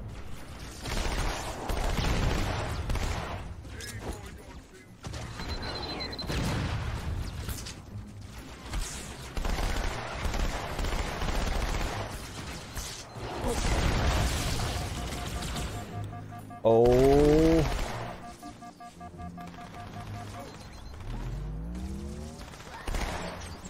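SMG fire in Halo 2 Anniversary, with bursts of automatic shots mixed into a busy stretch of battle noise, explosions and game effects, loud and near throughout.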